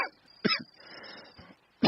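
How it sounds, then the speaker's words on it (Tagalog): A person coughs in short, harsh bursts, a pair of coughs near the start and another at the end, close by. "Nakagrabe naman ang imong ubo eh."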